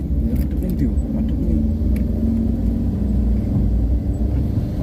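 A car engine labours steadily in first gear up a very steep mountain road between Trenggalek and Munjungan in Java, a loud continuous low rumble throughout, with faint jingling of keys and someone talking over it.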